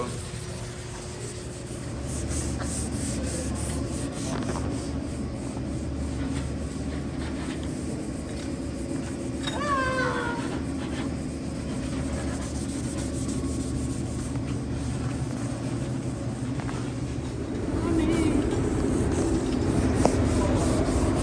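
Hand block sanding of cracked clear coat on a car body in an auto body shop, a continuous rough rubbing scrape over a steady low background rumble, close and fairly loud.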